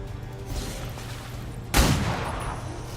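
A single loud gunshot rings out in a video game over low background rumble, a sudden blast whose tail fades off over the following second.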